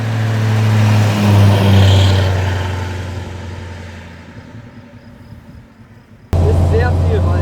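A 1940 Mercedes 770 armored open touring car, nearly five tonnes, drones steadily as it drives up a steep hill, the engine tone fading gradually before returning loud and close, with a voice talking over it.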